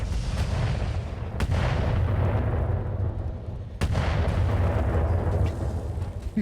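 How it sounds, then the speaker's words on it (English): Artillery fire in the video game BattleTech with the RogueTech mod: a constant heavy rumble of barrages with two sharp booming impacts standing out, loud and dense, with no voices. "Artillery is very satisfying. You just want to stack as much artillery as you can."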